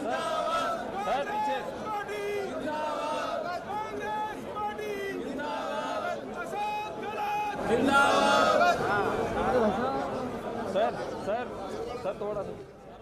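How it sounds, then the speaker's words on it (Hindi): Large crowd of supporters loudly chanting 'Ashok Gehlot Zindabad' slogans in a continuous, dense mass of voices with rhythmic shouting that swells louder midway, close and busy throughout. "अशोक गहलोत जिंदाबाद के नारे लगते हुए"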